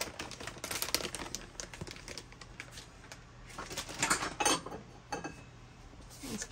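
Cheddar cheese is stirred into eggs in a bowl with a spoon or spatula: a close, irregular run of light clinks, taps and scrapes against the bowl, with no talking.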